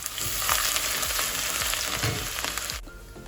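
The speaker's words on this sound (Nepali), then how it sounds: "अदुवा राखेर एकैछिन भुटेपछि" Grated ginger frying with fenugreek seeds in hot oil for a wild boar pickle, a loud, dense, continuous sizzle close up with brief stirring scrapes in the pan throughout.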